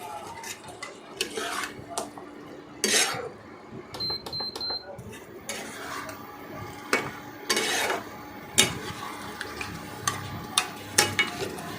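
Mutton is stirred with turmeric in a pan: irregular close scrapes and metallic clinks of a spoon against the pan, with a faint sizzle between them.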